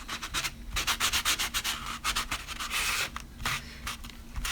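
Modeling paste being rubbed off a craft surface, comparing a standard paste with a light, fluffy variety: a close, steady run of short, scratchy rubbing strokes in an uneven rhythm, with no talking.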